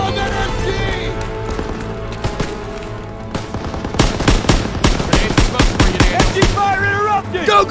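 Machine gun fire in a Call of Duty: WWII battle, loud rapid bursts of shots that build into a dense, sustained rattle over the second half, with shouted voices and battlefield noise beneath.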